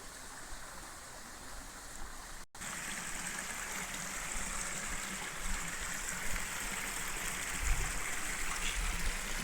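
A river stream flowing in the woods, a continuous rushing, trickling wash of water at moderate level that cuts out briefly near the start and then carries on steadily.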